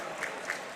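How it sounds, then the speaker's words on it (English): A crowd applauding at a Yu-Gi-Oh card tournament at YCS London 2023, a brief burst of dense, even clapping heard from a short distance, steady throughout with no clear voices. "Nice handshake, and it is Aaron who gets the round of applause from the crowd."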